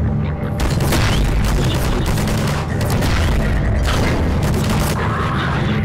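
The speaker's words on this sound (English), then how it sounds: "You've literally watched Gordon Freeman go through literally everything here, and you're still sitting here shooting at him" Dense, continuous gunfire from Combine soldiers in the video game Half-Life 2, loud booming bursts and rapid shots packed together across the whole stretch with no pauses.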